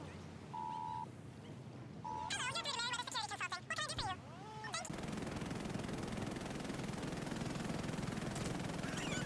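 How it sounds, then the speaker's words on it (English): Short electronic beeps and warbling chatter, then a steady, loud whooshing roar of a helicopter in GTA V flying close overhead that fills the rest of the clip. "call in a helicopter from Merryweather."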